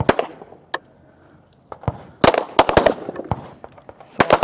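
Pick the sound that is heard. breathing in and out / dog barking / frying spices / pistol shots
pistol shots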